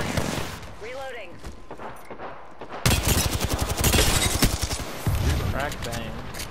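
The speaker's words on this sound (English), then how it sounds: "They're shooting at me." Apex Legends gunfire with rapid automatic bursts and a dense fusillade, loud and close, together with in-game voice lines and a player talking over the shooting.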